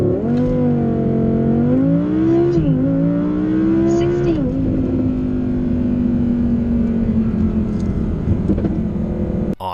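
A 2017 Audi R8 V10 with all-wheel drive and a dual-clutch gearbox launches from rest in below-freezing weather, its ten-cylinder engine roaring loud and close, pitch climbing through the gears in rising surges.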